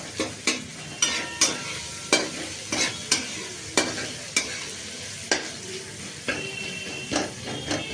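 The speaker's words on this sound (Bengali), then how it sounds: "পেঁয়াজটা ভালো ভালো করে ভালো করে একটু ভাজা হবে পেঁয়াজটা" Onions frying in a pan for a prawn malai curry, a steady sizzle broken by regular scraping strokes of a spoon stirring them about once a second, close and alone with no talk.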